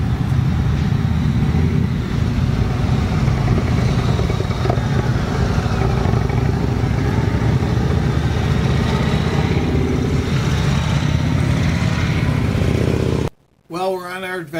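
Motorcycle engine running steadily and loud for a ride toward Main Street in Daytona, a continuous close rumble that cuts out abruptly near the end.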